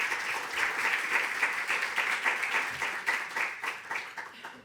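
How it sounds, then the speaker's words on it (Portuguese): An audience applauds to welcome a paediatric oncologist onto the stage at a Lisbon talk, with steady dense clapping that holds evenly throughout without fading. "para quem eu peço o vosso aplauso."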